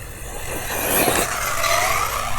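Arrma Talion 6s EXB RC car held at full throttle, a continuous whirring motor rush with some tire noise, swelling louder in the middle and staying fairly close.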